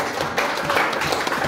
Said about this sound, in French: Est-ce que tu peux applaudir le Seigneur là où tu es?